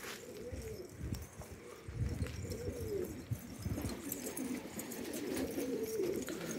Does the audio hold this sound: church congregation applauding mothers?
no